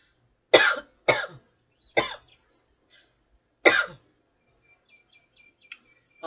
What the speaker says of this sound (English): all of a sudden out of nowhere I'm having a cough attack